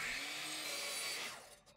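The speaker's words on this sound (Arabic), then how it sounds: "على المنشار الرأسي وبزاوية 45 هقص السدابة دي" Miter saw cutting a wooden strip at a 45-degree angle, a loud steady whining roar that fades as the blade spins down near the end, close up with no talk.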